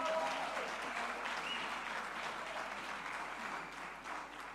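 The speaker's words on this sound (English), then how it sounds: "Again, another round of applause," Sustained applause from an audience at a Future of Work 4IR dialogue conference session, a steady, dense clatter of clapping that fades slightly toward the end with no talk over it.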